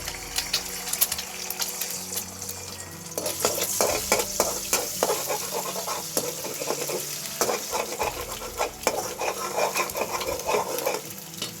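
Oil frying on a stove, a loud, continuous sizzle close by, broken by frequent scraping and clattering strokes as the pan is stirred, with no talking.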